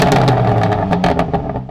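BMW M4 Competition exhaust in loud mode, a brief loud engine rev with crackling pops and bursts in quick succession, close and unaccompanied by talk.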